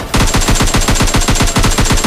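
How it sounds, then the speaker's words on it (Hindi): Automatic gunfire from a computer-controlled bot in a shooting video game, a rapid steady burst of evenly spaced shots that runs loud and close for about two seconds with no talking. "अब बॉट फायरिंग दे रहा था"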